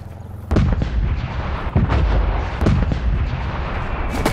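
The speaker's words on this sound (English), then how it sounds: "incoming artillery" Artillery barrage in Call of Duty: Black Ops Cold War, a dense run of heavy booming blasts and sharp cracks rolling on after a quiet start, loud and close with no talk.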